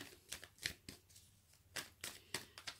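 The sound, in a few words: shuffling a deck of cards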